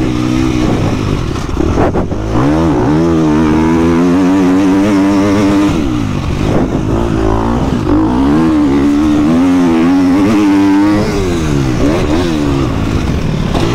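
On the Saint-Jean-d'Angély race circuit, a GasGas 250 MCF motorcycle rides at speed, its engine note winding up and falling back through shifts, loud and near for the whole stretch with no talking.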